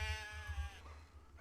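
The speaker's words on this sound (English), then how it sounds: "those are some very expressive sheep." A sheep in the video game Medieval Dynasty gives a wavering, nasal bleat, loud and near, trailing off over low background rumble with a second fainter bleat at the end.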